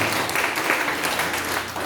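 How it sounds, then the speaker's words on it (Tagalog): A church congregation claps loudly together, giving dense, sustained applause that fills the room for the whole stretch. "Lahat ng masaya, pumalakpak ng malakas sa ating Panginoon."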